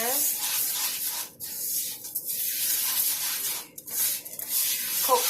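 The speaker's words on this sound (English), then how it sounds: "You just want to give it a nice stir." Frozen General Tso's chicken and rice stirred in hot oil in a pan, giving a steady close sizzle with scraping and rubbing of the utensil, briefly dipping twice as the food is moved.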